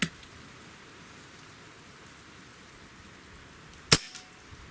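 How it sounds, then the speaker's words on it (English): A single suppressed shot from a Beeman Commodore Model 1365 air rifle fired over a chronograph, a sharp near crack with a short echo, standing out against quiet steady background hiss. "There's your 5 shots over the Chrony."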